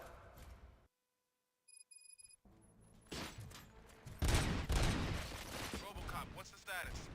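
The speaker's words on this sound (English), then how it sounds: "Gunshots? What's going on?" Gunfire in the PS5 video game RoboCop: Rogue City sets in after a quiet stretch with faint electronic chimes, then swells into loud, dense bursts of shooting layered with voices.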